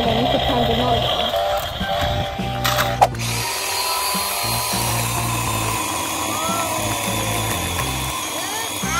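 A toy chainsaw switched on with a button gives a steady buzzing, rattling motor whir that runs throughout, with an excited voice talking over it.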